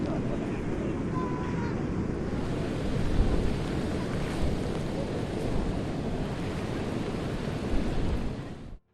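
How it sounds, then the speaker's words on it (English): Strong ocean waves driven by a cyclone roar and crash continuously onto a beach, with heavy wind rushing across the microphone for the whole stretch before it cuts off abruptly. "Other video of strong waves triggered by a cyclone"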